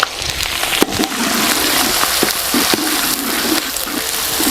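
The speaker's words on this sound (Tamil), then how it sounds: "வெங்காயம் வேவுது" Chopped onions fry in hot oil with curry leaves for Pondicherry-style chicken thokku biryani, giving a steady close sizzle with occasional sharper crackles and pops throughout and no talking.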